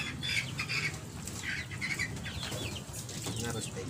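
A pigeon being given medicine for loss of appetite and lethargy flaps its wings in quick flurries of fluttering bursts, close up, alongside rustling handling noises and faint background voices.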